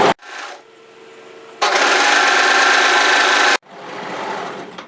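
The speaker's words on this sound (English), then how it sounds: "overlock around 3 sides of this" An overlocker serges the short ends of a cardigan, a steady loud mechanical whirr running for about two seconds in the middle, with quieter handling noise before and after.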